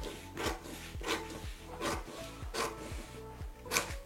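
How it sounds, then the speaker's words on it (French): Scissors cut skirt fabric along a traced line, giving a steady series of rasping snips about every half second, close and fairly quiet with no talking. "Ensuite, je viens découper sur cette même ligne"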